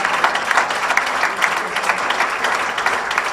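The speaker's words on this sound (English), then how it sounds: "You can clap now" An audience claps for a political campaign event speech, a dense burst of applause at steady loudness for a few seconds with no voices over it.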